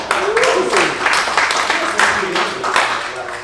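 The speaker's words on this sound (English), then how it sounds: "Clap it up for that." A comedy audience breaks into applause, a close, dense patter of clapping with uneven surges that continues steadily throughout, mixed with some voices.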